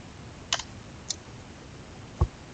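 A few sparse keyboard keystrokes as ipconfig is typed at the Windows 10 command prompt: two quick key clicks, a pause, a single click, then a heavier thump, all fairly faint against a quiet room.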